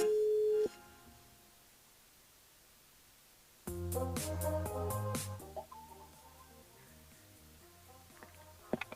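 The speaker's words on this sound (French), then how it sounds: "Elle appelle l'INSEE sur le standard." A telephone line tone sounds while a call to a switchboard goes through: a short steady tone, a pause of quiet line hiss, then a burst of electronic beeps and tones that fade into faint clicks.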